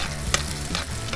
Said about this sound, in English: busy cooking eggs on their makeshift pot lid frying pan